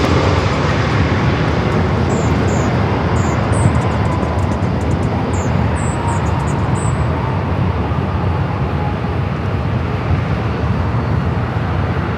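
A United 757 airliner at Los Angeles airport roars steadily with loud, broadband jet rumble that holds constant throughout, with a few faint high chirps sounding above it.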